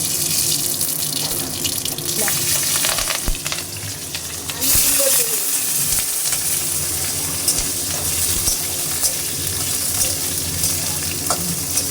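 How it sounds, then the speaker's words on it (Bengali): Lentil dumplings (bori) frying in hot oil in a pan: a steady close sizzle and crackle with occasional stirring and utensil clinks, continuing without pause. "একটু বড়িটা তেলে ভেজে নিচ্ছি"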